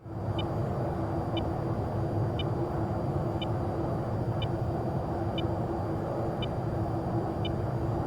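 Short high beeps from a radar warning receiver in VTOL VR's EF-24G, signalling radar search, repeat about once per second, faint against a steady low engine rumble, with no voices.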